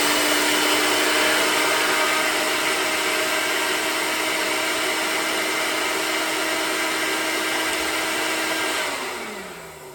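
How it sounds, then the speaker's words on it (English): NutriBullet blender grinding spices into powder, a loud, steady close motor whine held for several seconds before winding down and dropping in pitch at the end. "I'm going to use my handy dandy NutriBullet and give this a quick little grind"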